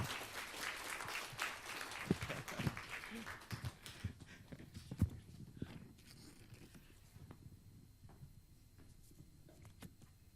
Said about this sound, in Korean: 우리 박수로 우리 한번 목사님 맞이하도록 하겠습니다.